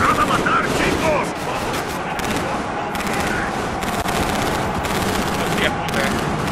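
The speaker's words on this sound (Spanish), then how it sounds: "Ahí inician los tiros ya" Dense, loud gunfire from the video game Metro Exodus (Two Colonies DLC), a continuous fusillade of rapid shots filling the whole stretch, with some voice chatter underneath.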